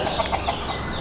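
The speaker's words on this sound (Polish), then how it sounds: "Jeden kogut jest na drzewie." Rooster perched up in a tree among leaves outdoors, giving a short burst of clucking and crowing calls that stand out over steady outdoor background noise.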